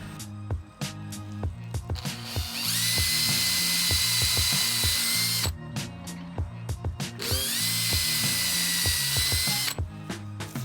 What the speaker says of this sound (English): Then I'm going to pre-drill it.